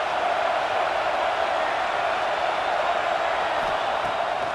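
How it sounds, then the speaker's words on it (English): A stadium crowd roars in a college football video game, a dense steady wash of cheering and noise holding at even loudness throughout, with no distinct voices standing out. "This crowd knows when to bring it"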